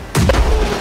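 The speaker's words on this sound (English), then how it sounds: "If there's a cannon lined up on the port side, I want you to use grape shot in the cabin" A video-game cannon firing grape shot, one sharp loud boom with a rumbling, decaying tail, close and alone.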